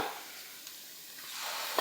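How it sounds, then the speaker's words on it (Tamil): A quiet, steady sizzle of garlic frying in hot oil for a fish curry, with a faint stir or tap near the middle. "பூண்டு சேர்த்து லைட்டாக பரட்டி விட்டுருங்க"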